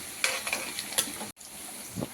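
Onions frying in a pan for a Telugu gongura raw prawn curry, with green chillies, curry leaves and whole spices, briefly stirred with a spoon; a soft sizzle runs under a few scraping strokes, heard close and alone.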